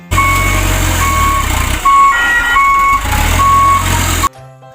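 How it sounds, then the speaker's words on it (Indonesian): A sand truck gives off loud, repeated electronic beeping over a steady engine rumble for about four seconds, then cuts off abruptly. "Wah, teman-teman, ada truk pasir."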